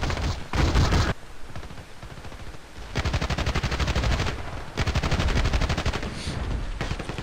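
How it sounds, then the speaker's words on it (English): Rapid submachine gun hip fire in Battlefield Play4free, long loud automatic bursts of fast repeating shots separated by brief pauses, close and dominant with no talk. "hopefully any submachine gun would have good hip fire from that close"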